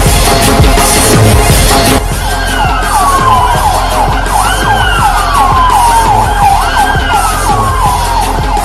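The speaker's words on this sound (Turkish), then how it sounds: "Belediye binasına acil ambulans gönder," A wailing ambulance siren sweeps up and down repeatedly, loud and close, over steady traffic and street noise, with no talk.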